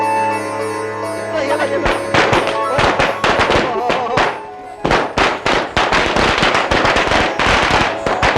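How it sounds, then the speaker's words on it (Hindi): Firecrackers burst in a loud, rapid, close string of sharp cracks and pops. The crackling runs almost continuously, eases briefly midway, then picks up again. "अब पटाखे फोड़ेंगे ना? बिल्कुल फोड़ेंगे"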